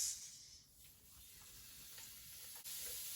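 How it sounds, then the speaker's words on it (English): Chicken sizzling on a smoking-hot double-sided contact grill, a steady broadband frying hiss heard alone from start to finish with a brief dip in level partway through. "So you can hear the chicken is cooking in the background"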